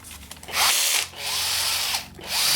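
A power drill spinning a Lee Wilson case reamer whirs in three short bursts separated by brief pauses, close and fairly loud, with audible spin-up and spin-down between runs.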